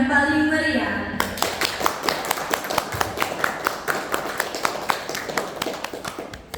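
Applause for student council chair and vice-chair candidates at a junior high school debate, starting after a brief announcement and continuing as a dense, steady patter of many hands clapping, with some sharper individual claps standing out.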